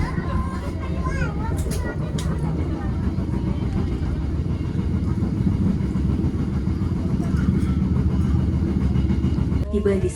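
A passenger train runs in a continuous low rumble heard from inside, steady and fairly loud throughout, with voices faintly audible over it.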